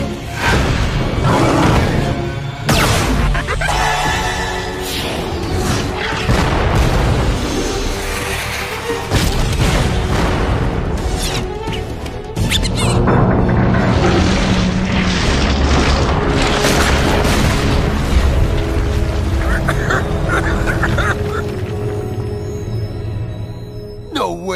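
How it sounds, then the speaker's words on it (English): Booming cartoon explosions from an Earth Elemental slug fired as heavy artillery in the animated series Slugterra, a dense run of loud blasts and crashes lasting over twenty seconds amid an action soundtrack. "I'm slinging the Earth Elemental. Hey, Pronto! Heavy artillery coming in"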